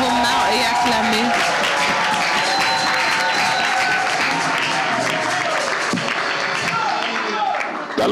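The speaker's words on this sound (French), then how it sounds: "Unis vos mains et acclamez." A church congregation applauding, dense and loud sustained clapping filling the room without pause, with voices and cheering mixed into the crowd noise.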